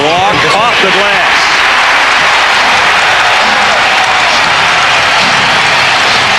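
A loud, sustained roar of a packed basketball arena crowd during a 2003 playoff game between the Lakers and Timberwolves, constant broadband cheering with a few brief voices near the start.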